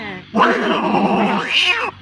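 A man vocally imitates two cats fighting, a loud, close, wavering yowl and growl that rises into a drawn-out screech, about a second and a half long.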